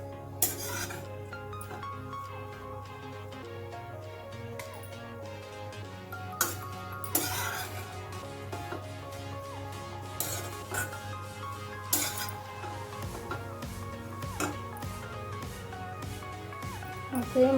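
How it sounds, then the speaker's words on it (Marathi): Grated coconut dry-roasted in a pan over a low flame, with soft scraping and stirring of a spatula against the metal pan and intermittent clinks, over a low steady hum. "आता मी खोबरं भाजून घेते। स्लो गॅस ठेवून खोबरं भाजून घ्यायचं।"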